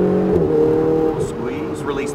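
A Ferrari engine powering out of a corner at a driving experience, a steady tonal engine drone that rises in pitch as it accelerates, heard from inside the car beneath an instructor's voice.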